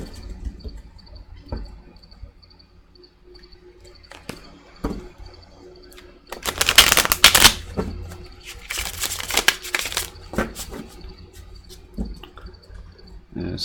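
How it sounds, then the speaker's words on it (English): Tarot cards are shuffled in a quiet room, with soft riffling bursts that swell loudly for a few seconds in the middle, then lighter scattered taps and card flicks. "I'm gonna shuffle these a bit first."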